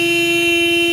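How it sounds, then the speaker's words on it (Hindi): A child presses a motorcycle horn, which sounds a loud, steady, unbroken honk at one bright pitch for the full second. "अरे हॉर्न ना बजा, हॉर्न ना बजा"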